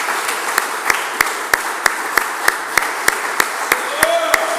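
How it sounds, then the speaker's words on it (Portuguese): A church congregation claps in unison for Jesus Christ, giving a slow, regular beat of a dozen or so sharp claps over a sustained background of crowd noise. A brief tone rises near the end. "Vamos dar uma salva de palmas ao Senhor Jesus Cristo."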